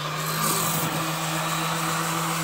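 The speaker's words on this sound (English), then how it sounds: "she's got her power tools out." A power tool runs steadily on wood during a kitchen cabinet renovation, giving a continuous loud whirring and rasping hum with a faint tonal drone, close and without talk.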